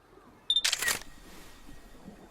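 A single crisp camera shutter click in an anime scene, a short mechanical snap followed by a brief whirring burst, close and isolated with quiet room tone after it.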